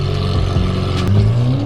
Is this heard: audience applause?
no